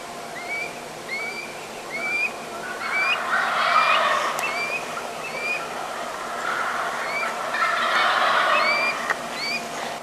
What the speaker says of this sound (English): the turkey suddenly lit up with gobblers going off like crazy